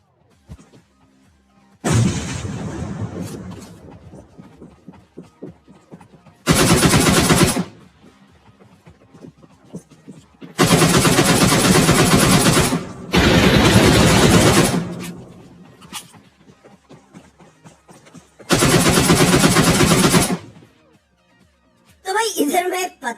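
M762 rifle bursts of automatic fire in PUBG Mobile: several loud, close rattling volleys lasting a second or two each, separated by quieter gaps, with a player talking between them.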